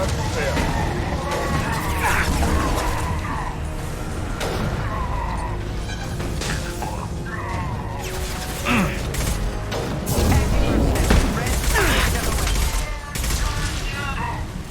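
Gunfire in Mass Effect 2 during the Lair of the Shadow Broker mission, with shots and mechanical clatter scattered across a busy combat mix, heard under steady voices and game sound.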